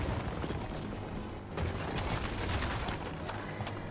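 A gun in Fortnite fires on its own, giving a dense, close crackle of rapid shots and mechanical rattles. The loud bursts are packed tightly together, with a brief dip in the middle and no voices.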